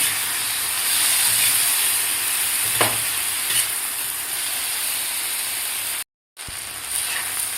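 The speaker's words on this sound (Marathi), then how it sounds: "आता आपल्याला 2 ते 3 मिनिट टोमॅटोसुद्धा मिरचीबरोबर व्यवस्थित भाजून घ्यायचे आहेत, थोडेसे असे सॉफ्ट होईपर्यंत." Tomatoes and green chilies roast in a hot pan with a steady close hiss and sizzle that runs throughout, broken by one brief dropout near the end.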